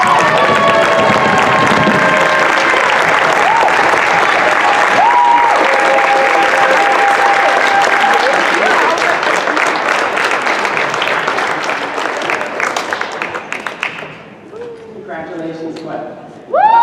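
Sustained applause fills a high school student awards assembly at the spring ceremony and NHS induction, a dense crowd clapping with scattered whoops and cheers. It holds steady for most of the stretch, then thins and fades toward the end.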